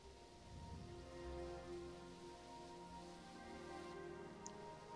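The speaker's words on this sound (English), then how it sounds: "Another desert downpour." Steady desert rain hisses in a continuous downpour in the video game Mars Horizon, fairly faint, with a low rumble underneath and no voices.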